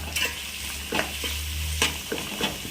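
Chopped onions roast in a pan for a patrode dish, giving a steady low sizzle broken by a few sharp scrapes of a spoon stirring against the pan.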